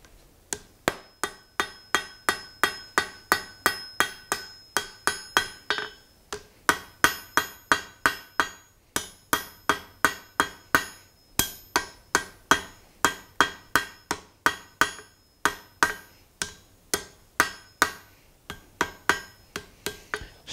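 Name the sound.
blacksmith hammering hot steel to forge weld and taper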